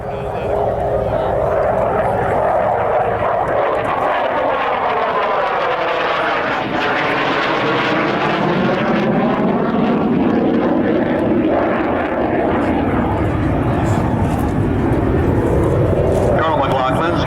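An F-16 fighter jet passes at high speed at a military air show, a loud roaring sweep whose pitch slides downward as it nears and recedes, with an announcer talking over it.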